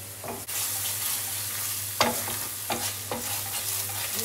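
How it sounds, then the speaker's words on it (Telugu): Pan-frying for paneer butter masala, a steady close sizzle with a low hum underneath, broken by several sharp scraping stirs of a utensil against the pan. "ఇది కొంచెం బాగా ఫ్రై అవ్వాలి."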